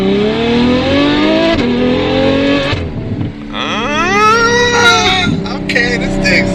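Ferrari F12 V12 pulling away from a stop, its loud engine note climbing steeply through the revs alongside people speaking nearby.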